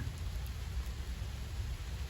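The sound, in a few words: heavy rain falling in a Punjabi village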